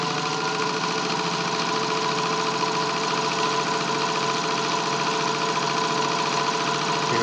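A Singer sewing machine in two-tone green runs continuously, a steady mechanical whir with rapid rhythmic ticking from the moving parts, close and even throughout, no voices.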